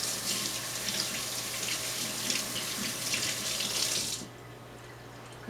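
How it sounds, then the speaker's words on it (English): Water from a kitchen tap runs steadily over hands being rinsed, a broad close hiss that holds for about four seconds and then cuts off sharply, leaving a low steady hum. "I'm going to rinse my hands quickly."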